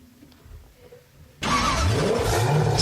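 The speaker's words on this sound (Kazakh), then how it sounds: "жеңіл көлік," Car engine bursts in loudly partway through after faint background, a steady close roar that stays level to the end with no voices.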